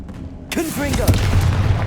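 Sudden booming blast of a Confringo fire spell exploding in Hogwarts Legacy, a sharp burst after a quiet moment followed by crackling, swirling magical tones and a second thump.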